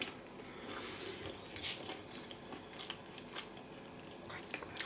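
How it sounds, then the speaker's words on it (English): Close, quiet chewing of sourdough bread, with soft crunchy bites and moist mouth sounds repeating irregularly over several seconds and no talk. "I'm eating sourdough bread, which is 5 grams of protein a slice"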